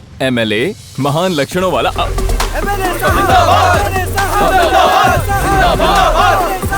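A loud crowd shouts rhythmic slogans in unison, voices rising and falling in repeated chants, with a leader's voice calling out over them.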